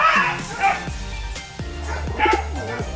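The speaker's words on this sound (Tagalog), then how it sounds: "So yung nag-aaway na aso doon, so ngingay nila." Several dogs bark, yip and snarl in a rapid, overlapping scuffle, close and loud, with whimpers mixed in and a voice talking underneath.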